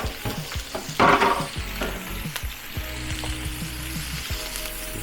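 Chopped onion and ginger sizzle loudly in a hot pan for pork dinuguan, with steady frying crackle and scraping stir strokes close by and no talk.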